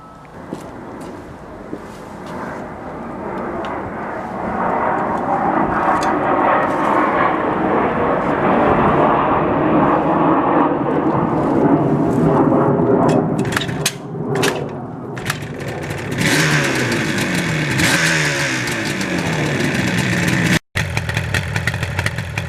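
A two-stroke Kawasaki Ninja motorcycle engine runs steadily, then revs and climbs in pitch. The loud, continuous buzz stays close throughout, with sharper rising blips near the end and no talk.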